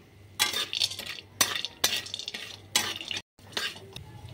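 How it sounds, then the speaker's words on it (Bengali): A spoon scrapes and stirs in a pan in repeated strokes, with a faint sizzle underneath as red lentil dumplings fry in a teaspoon of oil. "প্রথমে কড়ায় 1 চা চামচ তেল দিয়ে দিচ্ছি, অল্প কিছু বড়ি এতে দিয়ে একটু ভেজে নিচ্ছি"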